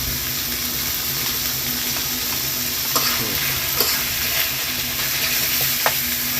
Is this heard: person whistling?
no